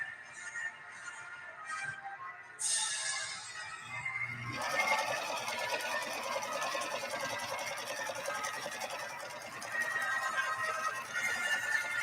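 A Husqvarna Viking 3230 sewing machine running a zigzag stitch, with a steady close mechanical whir and rapid needle ticking that holds constant after a few short start-up bursts.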